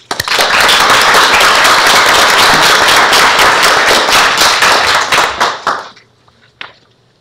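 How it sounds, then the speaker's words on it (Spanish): Loud, dense audience applause at a national moot court competition, sustained for about five seconds before tapering off into a few final claps and near silence. "Demos un aplauso."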